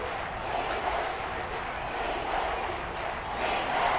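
A stadium crowd in the Madden 23 football video game roars steadily ahead of a big third down, a dense, continuous wash of cheering at even loudness throughout.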